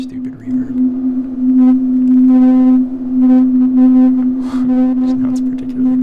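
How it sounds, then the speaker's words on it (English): A granular synth pad built in Pure Data with a basic reverb drones on a steady tone, layered with shimmering harmonic grains that swell and pulse in short bursts, with no talking. "so I put in a very basic, super stupid reverb"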